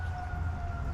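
A distant ambulance siren from a nearby highway, a faint steady wailing tone under low traffic rumble, very brief, no talking.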